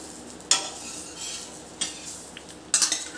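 Soya chunk paratha cooks in an oily pan, with a low steady sizzle broken by three clattering knocks of a metal spatula as the flatbread is turned and oil is added.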